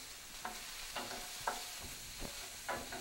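Onion frying in a pan, a soft steady sizzle with a few light spatula scrapes every half second or so, quiet and close.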